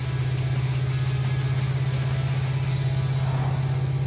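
A V8 engine in a cheap, long-abandoned Dodge Duster runs with no exhaust fitted, a loud, steady, throbbing low drone that holds evenly throughout with no voices.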